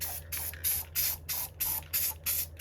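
Rhythmic bursts of dark spray paint hissing from a can onto ornaments, about eight short sprays in quick succession, close by with no talking.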